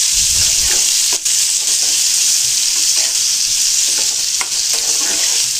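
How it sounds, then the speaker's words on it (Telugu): Stuffed brinjal masala with tamarind sizzles loudly in a pan, a constant bright frying hiss while a spoon stirs with scraping, clattering strokes close by. "ఇలా కలుపుతూ అయితే ఫ్రై చేసుకోవాలి బాగా."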